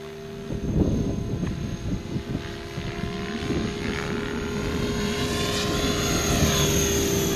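A T-Rex 600 RC helicopter flies close by with a steady high rotor and motor whine, swelling briefly as it climbs hard on negative pitch.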